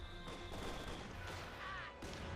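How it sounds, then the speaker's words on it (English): Gunfire and bazooka hits in the video game Company of Heroes 2, a quiet, busy stretch of crackling shots and thudding impacts heard at a distance, with faint battlefield noise throughout. "Captain there being sniped, shot at, suffering a few losses there, including the captain himself."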